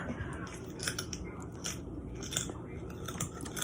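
A dog biting and crunching salty potato chips, with repeated crisp snaps and chewing bursts close up over steady room noise.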